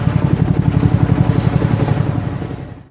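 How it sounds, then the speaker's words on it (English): A close, loud attack helicopter with a fast, steady rotor thump over a heavy engine rumble, fading out at the end. "Attack helicopter."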